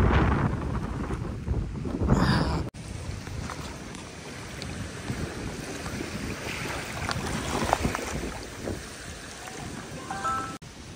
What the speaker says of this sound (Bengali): দেখো কী পরিমাণে ঝড় হচ্ছে, তার সঙ্গে সঙ্গে বৃষ্টি হচ্ছে